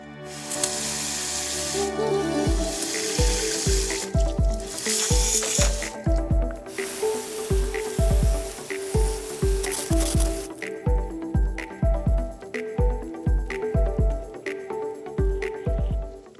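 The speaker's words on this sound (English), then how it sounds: "I'm going to spray this down with a little bit of water and then hit it with brake clean" Rapid hissing bursts of a spray nozzle spraying water and brake cleaner on a Mitsubishi Eclipse GSX engine, pulsing in a steady rhythm after a continuous wet hiss, close and loud, with no talking.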